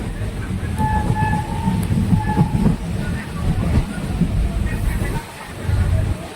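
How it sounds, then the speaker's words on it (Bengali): A nearly empty passenger train rumbles and rattles steadily as it pulls into Azimganj City station, with brief high toots sounding over the rolling clatter. "আমাদের ট্রেন আজিমগঞ্জ সিটি ঢুকিয়েছে।"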